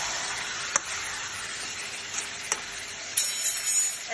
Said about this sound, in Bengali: এবার চিকেনটাকে ভালোভাবে কষিয়ে নেব।